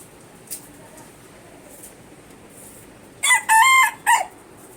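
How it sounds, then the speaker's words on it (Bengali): A rooster crows loudly and clearly near the end, preceded by chickens, faint background bird calls and a quiet, steady village outdoor ambience. "দেখেন মুরগি কীভাবে ডাকতেছে"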